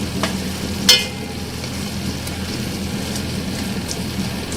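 Mutton keema with tomato stirred and fried in a pan: a continuous close sizzle with a sharp spoon scrape near the start, then steady frying crackle.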